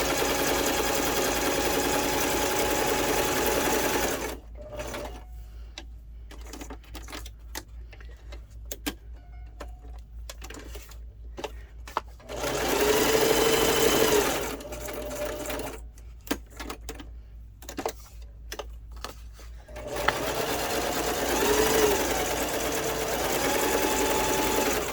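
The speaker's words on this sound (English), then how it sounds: "let's just go ahead and just put the sewing stitches in on this part" A sewing machine stitches through a thick paper library pocket, a fast rattling mechanical run in close, loud bursts broken by pauses with light ticks and handling clicks.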